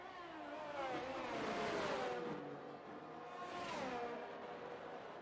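Several race cars in a racing video game heading out onto the Miami track for out laps, engines droning with rising and falling pitch sweeps as cars pass, steady and moderately loud, no talking.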